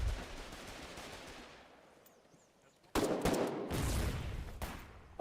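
A grenade blast in the war game Foxhole: a fading rumble of gunfire dies away to near silence, then a sudden loud explosion hits and rolls on, followed by another sharp burst at the end.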